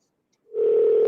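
A steady single-pitch telephone tone starts about halfway through and holds clear and loud after a short silence while a call is dialed out.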